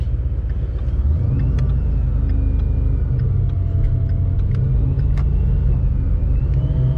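Ford Mustang GT with a Whipple supercharger runs in a steady, loud, close-up engine rumble with a deep low drone, no talk over it.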